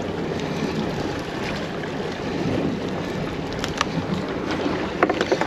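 Offshore fishing boat with two outboard motors in gear while fishing for mahi, a steady low engine drone mixed with wind buffeting and water wash, with a few small knocks near the end and no talking.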